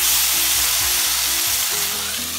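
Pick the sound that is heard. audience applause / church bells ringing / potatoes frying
potatoes frying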